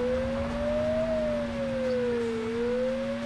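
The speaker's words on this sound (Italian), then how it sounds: "un'auto della polizia che ha una sirena così insulsa?" A police car siren in the Driver 2 video game wails steadily, a rising and falling electronic tone over a constant lower hum, loud and close with no talk.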